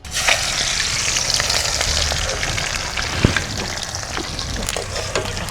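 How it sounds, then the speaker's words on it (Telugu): Oil sizzles steadily as a tempering is fried in the same oil used for a bitter gourd pickle, with a dense, continuous crackle and an occasional sharper pop, close and fairly loud, with no talking. "అదే నూనెలో ఇప్పుడు తాలింపు పెట్టుకుందాం."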